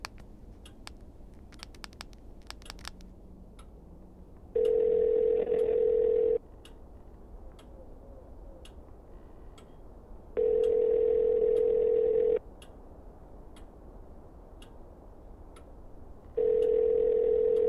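A telephone on speakerphone in a quiet room gives a few button clicks, then three steady electronic tone bursts, each about two seconds long, separated by longer silent gaps.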